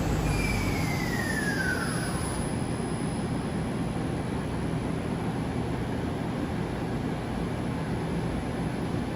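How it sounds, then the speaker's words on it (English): An Okuma LB 35 III 2000C CNC turning center runs its spindle at 1,000 RPM, the only machine running in the facility. It makes a steady, loud broadband whir throughout, with a brief descending whine near the start. "There is nothing else running in the facility, strictly this machine. It's ramping back up."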